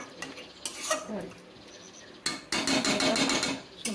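Mutton being stirred and fried with chilli and ginger paste in a pan: a spoon scrapes and clatters against the metal in uneven bursts, with a long, dense, loud stretch of scraping near the end.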